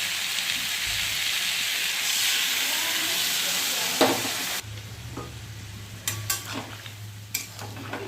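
Potato and pointed gourd fry in a pan with a steady loud sizzle that suddenly drops, followed by quieter frying and scattered clinks of a stirring spoon.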